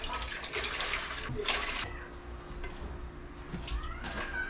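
Tap water runs steadily into a pot, about six cups of water for making coffee jelly with mini sago, with brief clatter and a faint tonal hum partway through.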